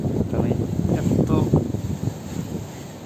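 Strong wind blows during a snowstorm in the Netherlands, buffeting the microphone in heavy, low rumbling gusts that fade slightly toward the end.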